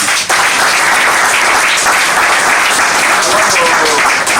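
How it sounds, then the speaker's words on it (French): A room full of people applauding loudly and continuously, the clapping dense and sustained from start to finish. "Est-ce que vous pouvez vous applaudir d'abord pour vous?"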